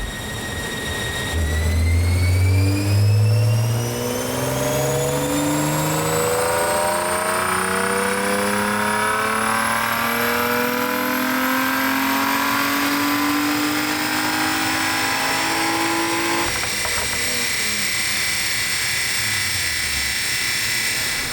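A Nissan 350Z, near-stock apart from a modified exhaust, revs on a dyno: a loud engine note climbs steadily through the gears for around fifteen seconds with rising harmonic whine, then drops off and winds down.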